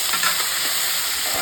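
Mustard seeds and curry leaves sizzle hard in hot frying oil, giving a dense, loud, continuous hiss with faint popping for a brief moment.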